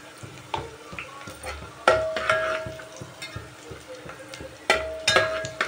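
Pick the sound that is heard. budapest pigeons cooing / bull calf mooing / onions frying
onions frying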